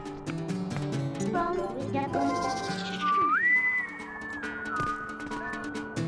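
A person whistles wavering notes, sliding up and then gliding back down, in imitation of chirpy character sounds over busy background noise from The Legend of Zelda: Twilight Princess.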